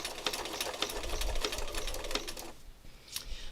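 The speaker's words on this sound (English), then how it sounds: "I'm just going to stitch over what I stitched a little bit" A sewing machine stitching over a previous line of stitches on a fabric piece, a close, rapid mechanical whirring with clicking needle strokes that stops near the end, no talk.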